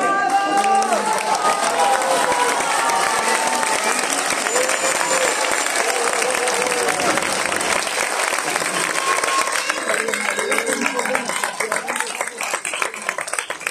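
An audience applauding at a 2022-2023 season closing event, a dense wash of clapping from a crowd that stays loud and sustained, thinning slightly near the end, with some voices mixed in.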